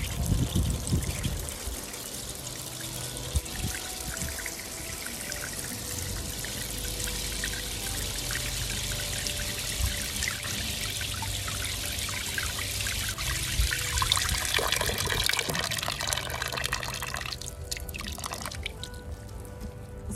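A watering can pours a full can of water onto a potted bare-root rose in dry compost, a close, steady trickle and splash that thins to drips near the end.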